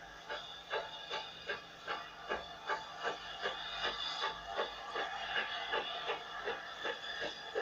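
A 1953 Scottish steam train chuffs steadily with rhythmic, evenly spaced beats, joined by a continuous hiss and rumble that builds as it draws nearer.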